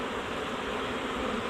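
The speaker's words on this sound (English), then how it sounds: "We got a lot of bees down here now" A swarm of bees being caught buzzes in a steady, dense drone, fairly quiet and unbroken, with no voices.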